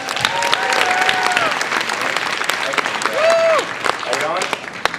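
Clapping from an audience at a live dry ice demonstration, honoring the presenter Thomas, sustained and fairly loud with voices and whoops mixed in over the applause.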